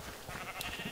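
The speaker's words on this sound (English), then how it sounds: "be quiet, sheep" A sheep in Minecraft gives a single short bleat, faint and nasal, heard alone with no talking.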